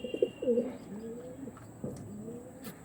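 Tournament-quality pigeons coo in low, throaty rolling phrases, several overlapping calls close by, with a faint steady hum in the background.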